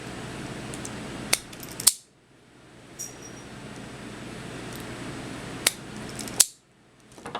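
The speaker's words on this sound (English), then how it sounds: "And I'm going to split it so that we can strip off the ends of it here." A wire is split and its ends stripped, giving a few sharp, close snips and clicks separated by quiet stretches of low room hiss.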